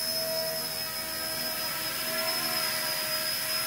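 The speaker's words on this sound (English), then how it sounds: "when you fly one of these little helicopters inside your house" An XK K124 EC145 radio-controlled model helicopter flies indoors, its small rotor and motor giving a steady, even whine with high tonal lines that hold for a few seconds without a break and with no voices.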